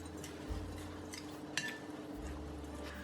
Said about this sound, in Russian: Перемешиваю.